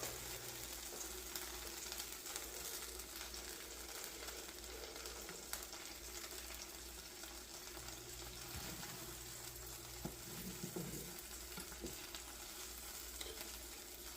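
A thick cheese quesadilla sizzles and fries steadily in a hot pan on the stove, a continuous close crackling hiss with light scraping and stirring sounds, no voices.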